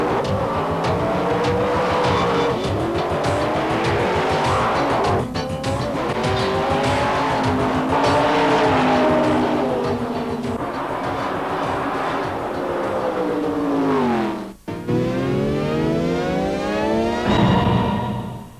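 Drag racing cars launch down the strip at the Hockenheim Nitro Olympics in 1992, engines roaring loud and continuous with rising and falling pitch, tire squeal, and a sharp pass near the end.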